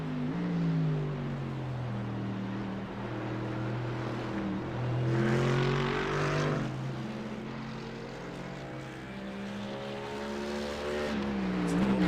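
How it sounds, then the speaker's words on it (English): GT3 race cars lap Oulton Park International in a virtual-reality sim racing series, with a continuous engine drone whose pitch climbs and drops through gear changes, loud and steady without voices. "Getting 6 cars to finish this race off, with Mark Math being the last one"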